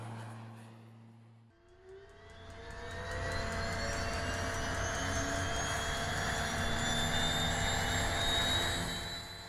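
A Black Square turbine-engine Bonanza, a conversion of the A36, spools up in Microsoft Flight Simulator. A low idle hum gives way to a steady, rising turbine whine that holds loud and continuous, with tones climbing gradually.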